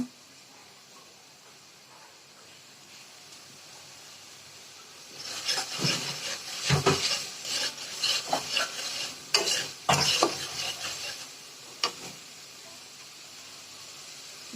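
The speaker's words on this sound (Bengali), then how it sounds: "ডাল দিয়ে দিচ্ছি আমি এখন।" Lentils (dal) tipped into a pan start a quiet fry, and a louder burst of sizzling and stirring scrapes rises midway, with irregular peaks before it settles back to a low hiss.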